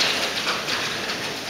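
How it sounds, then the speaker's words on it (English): Pea-size hail falling in a severe thunderstorm with strong winds in Dallas, pelting a backyard swimming pool; a steady, dense patter and hiss that stays even and continuous with no voices. "Looks like we're getting a little snow, but it's not snow,"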